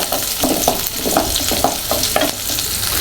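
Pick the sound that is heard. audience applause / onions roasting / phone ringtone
onions roasting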